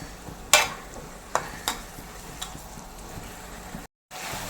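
Tomato, onion and green chili soften in a pan for a Kerala-style fish masala fry, with a few sharp stirring scrapes over a low, steady sizzle.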